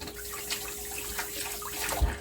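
Water being strained off boiled ackee through a strainer in a Jamaican home kitchen, a steady close pouring, trickling wash with a brief splash near the end and no talking.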